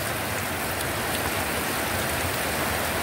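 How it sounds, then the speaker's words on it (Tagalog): Heavy rain from Storm Crising pours down steadily in San Antonio, Nueva Ecija, Philippines, a dense, continuous hiss of water hitting surfaces with no pauses. "at napakalakas pa ng ulan dito"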